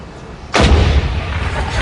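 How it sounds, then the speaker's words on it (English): A single loud, close cannon blast, the one o'clock gun fired at Edinburgh Castle, booms out suddenly and then rolls away in a long, heavy rumble that lingers to the end. "every day a cannon is fired at 1 o'clock"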